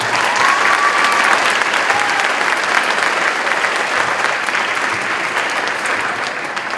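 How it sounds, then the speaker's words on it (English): A school winter concert audience of students and families breaks into sustained applause, a dense, steady wash of many hands clapping in a large room that gradually tapers off, with faint voices and a whistle mixed in. "Another round of applause for us."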